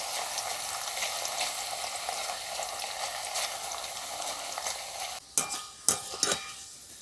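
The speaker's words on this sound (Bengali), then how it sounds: "আবারও ওইভাবে নিয়ে ভেজে নেব" Homemade potato chips fry in hot oil with a dense, even sizzle. Near the end a few sharp stirring and scraping clanks in the pan break through the steady bubbling. No one speaks.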